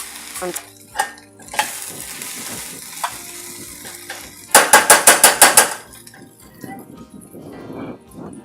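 Onions frying and being stirred in a pan for Puerto Rican yellow brown rice with chicken, loud close sizzling with scattered scrapes, then a quick burst of five or six rapid spatula taps against the pan.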